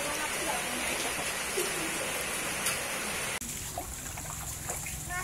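Rain pours steadily during a flood, giving a close, continuous hiss of drops on surfaces and water. Partway through, the wash drops to a slightly thinner, quieter patter and keeps going.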